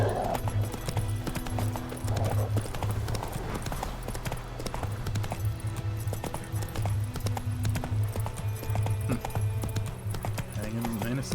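Rhythmic clip-clop of a galloping horse, Roach, in The Witcher 3 video game, steady hoofbeats driving throughout with game music and ambient noise underneath.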